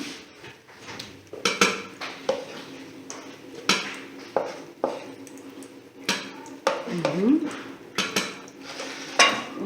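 Chopped onions, tomatoes and vegetables dropped into a pressure cooker, with repeated clattering knocks of food and utensils on the metal pot, fairly close and loud.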